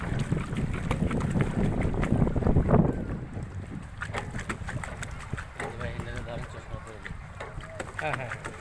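A boat ride on a lake at Green Valley Park in Lalpur, Natore, under hot sun. Wind buffets the microphone with a steady rumble, and water and boat noise continues while people talk.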